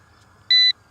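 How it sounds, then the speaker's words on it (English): A single short, high-pitched electronic low-battery beep from a Yu Xiang F11S Apache RC helicopter transmitter, lasting a fraction of a second, with a faint low hum underneath. "The transmitter just started beeping."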